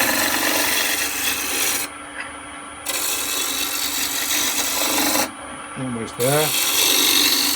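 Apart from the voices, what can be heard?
spindle roughing gouge turning wood on a lathe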